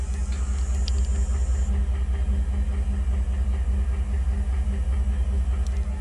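Exhaust of a tow rig's engine idling nearby, a low, steady rumble with a faint regular pulse and no clear misses, loud and unbroken throughout.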